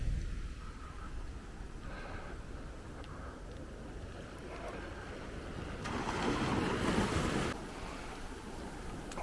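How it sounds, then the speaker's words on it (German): Small ocean waves wash softly onto Maspalomas beach in the Canary Islands, with one fuller surge swelling for a few seconds amid light wind noise. "man sieht so eine kleine Welle."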